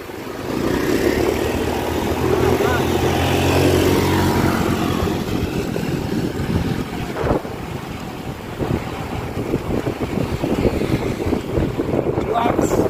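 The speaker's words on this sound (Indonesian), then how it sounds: "Tapi anginnya kenceng nih. Angin dari pantai Cilacap." Strong coastal wind off the Cilacap shore buffets the microphone during a road bike ride, a loud continuous rumbling roar with gusty swells and rustling throughout.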